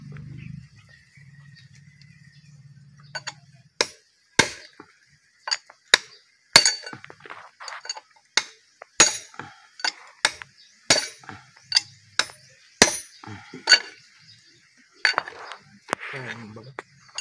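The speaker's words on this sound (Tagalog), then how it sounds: "Ang laking martilyo ito." A big hammer pounds a broken junk metal transmission being taken apart at a junkshop, sharp metallic clanks repeating irregularly, mostly about once a second, loud and near, with a low hum and murmured talk early on.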